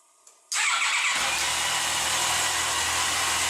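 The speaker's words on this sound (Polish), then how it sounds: "czy my możemy teraz ten sprzęt jeszcze odpalić? Bo może niektórzy nie wierzą, że odpali." A Yamaha FJR1300 motorcycle engine cranks briefly and fires, then settles into a steady, loud idle up close, with no speech.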